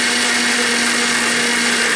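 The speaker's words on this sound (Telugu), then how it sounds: "చల్లారిపోయిన సీకాయ కూర మిక్సీ పట్టేస్తున్నానండి" A mixer grinder whirs loudly and steadily close up, blending cooled shikakai leaf curry into a coarse chutney with a little salt, with a constant motor drone and no voices.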